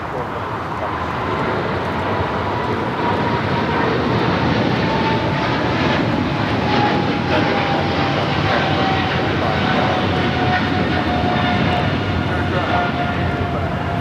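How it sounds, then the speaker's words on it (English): A Japan Airlines Boeing 777-300ER takes off from runway 25 right at LAX, a loud, steady jet roar with a slowly falling whine, while people talk over it. "This is Japan Airlines Flight 15 taking off to Tokyo, Haneda on the 777 300ER."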